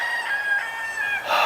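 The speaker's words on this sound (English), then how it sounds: "the chickens like to dig through the compost and see what they can find in there too" Backyard chickens around a compost patch on an Ohio homestead, with steady high-pitched bird calls and a crow-like call rising near the end, close and clear, no talking.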